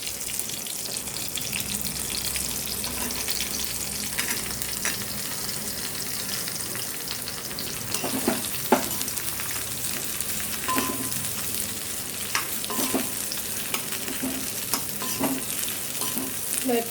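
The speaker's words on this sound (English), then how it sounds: "Let us put the onions." Onions fry in a pan, a continuous bright sizzle and hiss lasting well over fifteen seconds, close and steady, with occasional stirring clinks and pops and no talking.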